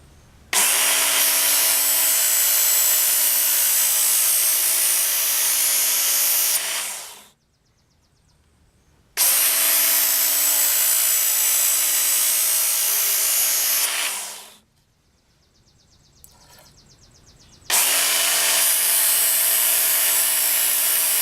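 A Work Sharp knife and tool sharpener grinds a knife freehand in three loud sustained whirring runs, each several seconds long and ending as the motor spins down, with near-silent gaps between them.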